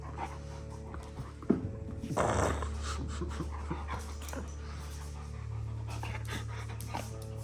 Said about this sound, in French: Ce chien est beaucoup trop violent